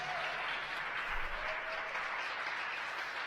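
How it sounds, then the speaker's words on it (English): Dense, continuous applause from a large crowd in Hawthorne after a crewed spacecraft launch to orbit, steady and fairly loud throughout, with no break. "You hear the applause here in Hawthorne."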